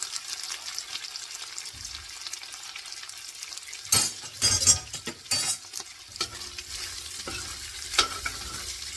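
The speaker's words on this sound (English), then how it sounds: "Give it a good stir." Beef stirred in a pot of beef and barley soup, a spoon scraping and clattering against the pot bottom in several loud bursts over a soft background simmer.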